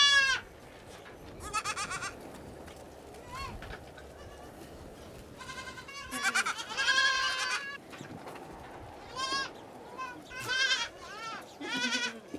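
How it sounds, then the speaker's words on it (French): Goats and their kids bleat repeatedly on a farm near the Morro da Tubarão volcano in Cape Verde, with several overlapping calls near and farther off over a soft outdoor background. "lorsque les chevreaux rejoignent leur mère pour se nourrir"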